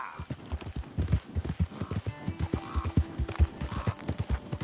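Horse hooves galloping in Red Dead Redemption 2, a steady rhythmic clip-clop of hoofbeats, close and fairly loud, with a faint whinny and brief background sounds.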